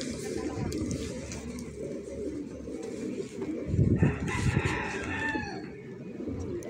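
Racing pigeons in a loft during a club race arrival check, with a busy mix of cooing and fluttering close by, a louder burst of wingbeats and calls midway, and steady bird chatter throughout.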